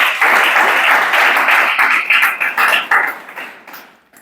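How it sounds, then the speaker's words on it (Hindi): A classroom full of students applauds, with dense, steady clapping that thins into scattered individual claps before fading out. "ताली बजाओ मैनपाट के लिए।"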